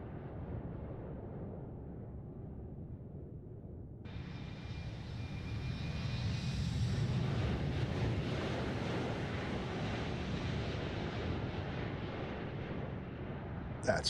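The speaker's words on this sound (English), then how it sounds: "Do another flyby." Embraer E190LR jet flying past in Microsoft Flight Simulator 2024, a broad roaring engine rush that swells and brightens midway as it approaches, then holds steady, loud and alone.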